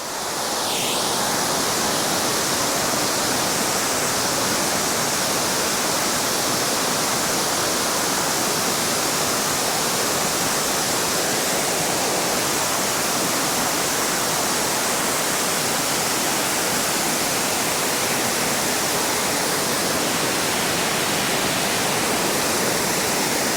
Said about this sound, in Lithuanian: Tai va toks krioklys Slovakijai